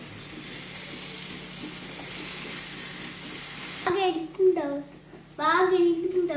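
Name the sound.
frying in pan, ginger garlic paste added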